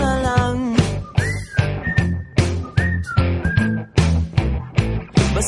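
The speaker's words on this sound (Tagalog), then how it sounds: "Pasipol-sipol na lang." Melodic whistling in a Filipino pop song: sustained whistled notes float over a steady beat of drums and bass, repeating in short phrases across the passage with full band backing.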